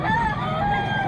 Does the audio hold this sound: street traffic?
no